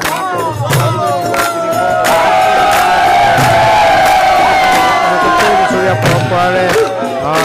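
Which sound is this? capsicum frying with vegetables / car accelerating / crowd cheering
crowd cheering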